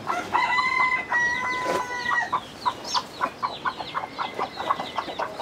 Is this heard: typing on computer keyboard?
no